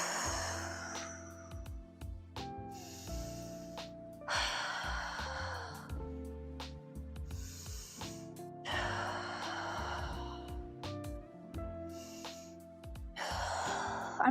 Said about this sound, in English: I should be able to hear you take those nice deep inhales and extended exhales.